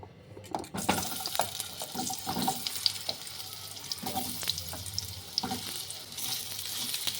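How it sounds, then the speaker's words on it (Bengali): Cut potatoes hit hot white oil in a kadai and crackle loudly, a dense close sizzle with bursts of spattering and occasional scraping, staying busy throughout. "তেলটা গরম হয়ে গেছে, কাটা আলুগুলো আমি একটু ভেজে নেব।"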